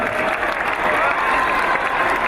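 A crowd at a school gathering in Malkapur, Udaipur applauds to welcome a cabinet minister, dense and loud clapping that holds steady for a couple of seconds with a faint murmur of voices mixed in.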